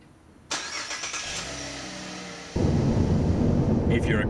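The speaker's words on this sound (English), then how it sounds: "you could start your car from the kitchen and get the heater running" A Holden VF Commodore Evoke Ute started by remote: the engine cranks and catches abruptly, runs at a steady idle, then a louder broad rushing roar takes over and holds.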